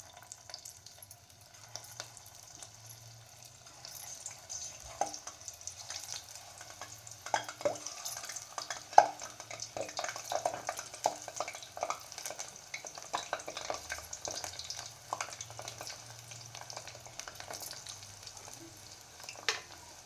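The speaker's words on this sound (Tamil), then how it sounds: "மீடியம் ஃப்ளேம்லேயே இதை வந்து பொறிச்சு எடுக்கணும்" Cabbage Manchurian balls deep-frying in hot oil over a medium flame give a faint, steady sizzle with small crackles and occasional soft utensil taps, continuing evenly for the whole stretch.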